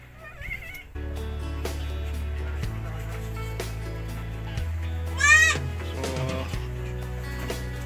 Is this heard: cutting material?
no